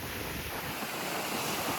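Sea waves washing onto the shore at Pondicherry, a steady broadband surf wash mixed with wind rumble against the microphone, continuous and fairly close, with no voices.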